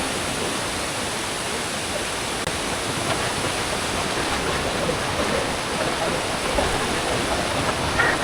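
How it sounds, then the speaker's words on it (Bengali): A waterfall in Chattogram, Bangladesh, gives off a loud, steady roar of rushing water that fills the air without a break and has no talking over it. "এই যে সেই চলে আসলাম ঝর্ণার কাছে"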